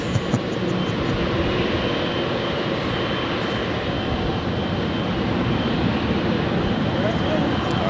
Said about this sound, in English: she is now rolling down 24 left, heading back to Dubai in the Emirates A380